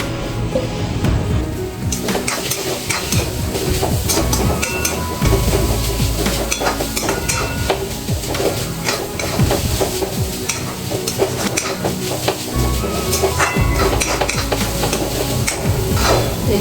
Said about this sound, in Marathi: आता आपल्याला हा रताळ्याचा किस घालायचा आहे आणि व्यवस्थित परतून घ्यायचंय